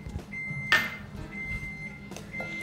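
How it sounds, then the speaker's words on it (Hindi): A preheated oven sounds a series of steady electronic beeps: a short tone, a longer one and a third that is cut off. They sound fairly close over quiet kitchen background with a faint thud. "ये जो आवाज़ आप सुन रहे हैं, मेरा ओवन गर्म हो चुका है।"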